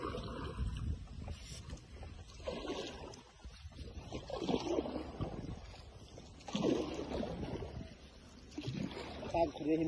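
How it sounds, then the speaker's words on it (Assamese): A boat is rowed by hand, with soft, irregular paddle splashes and water movement heard faintly and up close, while people talk quietly throughout. "বহুত বছৰৰ পিছত নাও চলাইছো"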